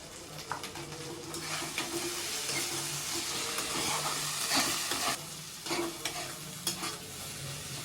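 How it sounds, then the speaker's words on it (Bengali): Ground spices for a country chicken curry sizzle in hot oil in a pan, with repeated scraping stirs and clinks over a steady frying hiss, close and moderately loud. "এবার সব রকম মশলাকে ভালো করে কষিয়ে নেবে"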